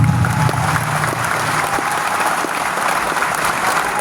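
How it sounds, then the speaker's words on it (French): A large crowd gives loud, sustained applause for the president of Niger, a dense continuous roar of clapping with no pauses, heard up close. "Je vous demande de l'applaudir très fortement"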